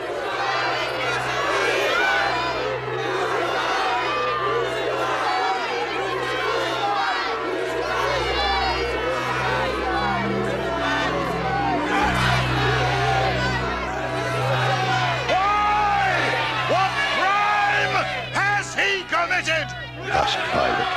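A large crowd shouting and clamouring together in an angry uproar against Pilate, a loud, dense, continuous roar of many voices with a low rumbling bed underneath, swelling and staying intense throughout.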